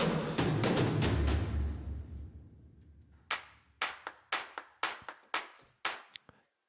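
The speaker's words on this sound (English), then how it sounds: "this is a clap loop I kind of made with 4 different claps kind of" A looped clap pattern built from four different claps hits as sharp, dry, evenly spaced strikes, following a louder full-mix passage that fades out first.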